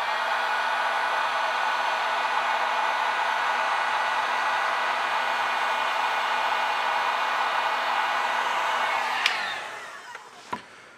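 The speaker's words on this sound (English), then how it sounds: "Let me turn on the heat gun and see how quickly it stops." Heat gun blowing steadily near a small-form-factor LiFePO4 12V 100Ah battery, a constant loud airy roar with a faint hum that cuts off near the end, followed by a couple of sharp clicks.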